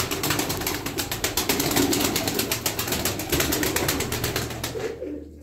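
Young blue pigeons in a loft make a rapid, rhythmic rustling patter, close and continuous, with soft coos mixed in before it fades out at the end.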